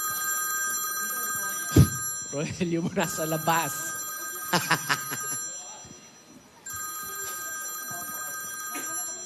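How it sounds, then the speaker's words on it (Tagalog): An old-style telephone bell rings in long, loud electronic trills that start and stop in repeated bursts, with people talking between and over the rings. "Ayun yung telepono."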